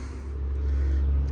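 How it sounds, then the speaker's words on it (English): Cars on a nearby road on the outskirts of Tampa, Florida, roll past as a steady, loud, low rumble of traffic, with no talk over it. "Luckily, you can hear the cars in the background."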